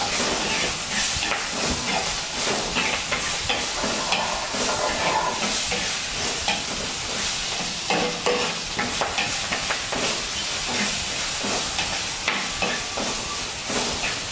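Tomatoes, chilies and garlic sizzle and hiss steadily in a hot pan, with repeated stirring and scraping sounds throughout.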